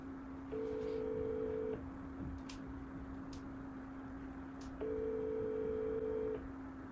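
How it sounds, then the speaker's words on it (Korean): Telephone tones while placing a call: two clear beeping dial tones, each lasting about a second, over a steady low hum in a quiet room. "한번 전화를 걸어볼까요?"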